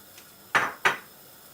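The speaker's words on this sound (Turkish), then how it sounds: "Kaynayan suyumun içine hemen atıyorum." Two sharp clattering splashes of okra dropped into boiling water, about a third of a second apart, bright and close, with quiet background before and after.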